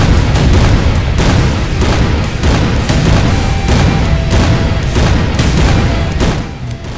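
Loud, dense barrage of firebomb explosions in the shooter game Rise of the Triad (2013), rapid booming bursts overlapping one another without pause for several seconds, with no talking.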